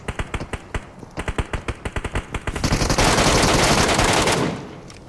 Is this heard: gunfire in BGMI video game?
yes